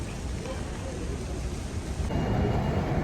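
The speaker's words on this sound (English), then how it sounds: "now I'm on my way to Kiev on a train" Train rolling along rails on a journey toward Kiev, a steady low rumble and rattle throughout that grows louder and rougher in the last second.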